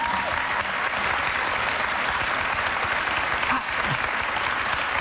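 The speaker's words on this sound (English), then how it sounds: "you can clap." An audience claps steadily and loudly, a continuous even wash of applause filling the whole stretch with no pause.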